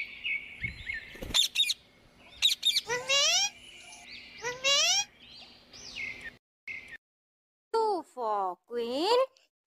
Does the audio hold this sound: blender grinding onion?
no